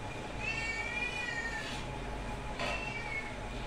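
Domestic cat meowing twice, each call a drawn-out, rising-then-falling cry, the first longer than the second, close to the microphone over a low background hum.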